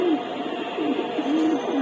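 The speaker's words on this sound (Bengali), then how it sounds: "খুব সুন্দর কবুতর কবুতর আমার কাছে খুব ভালো লাগছে" Pigeons coo nearby in soft, repeated rolling calls, one after another over a steady background hum.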